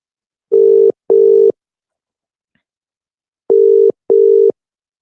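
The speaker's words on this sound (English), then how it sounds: "Let's dial this one." A phone line sounds two pairs of steady low call tones, each pair of short beeps separated by a few seconds of silence, loud and clear with no talking.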